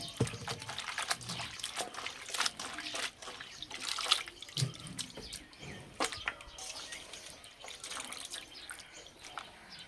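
Water splashes and drips as tilapia fish is rinsed by hand, with irregular sloshes and trickles, quiet and close.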